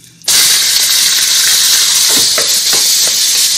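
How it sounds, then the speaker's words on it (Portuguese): Beef hits hot oil in a pan for Moroccan harira soup, setting off a sudden loud, steady sizzling hiss that holds close and strong, with faint clinks of stirring underneath. "vou sauté a carne"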